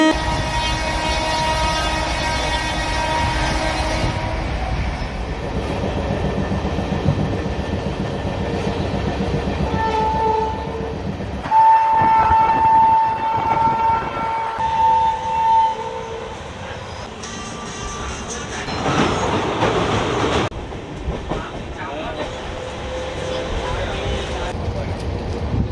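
The Darjeeling Mail at Bolpur Shantiniketan station rumbles loudly and steadily, with a long sustained horn blast in the middle and a shift in the rolling clatter later, voices talking over the din.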